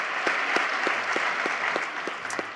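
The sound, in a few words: audience applause at key to the city presentation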